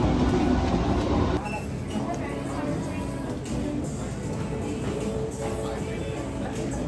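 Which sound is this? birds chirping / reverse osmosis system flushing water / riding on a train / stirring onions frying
riding on a train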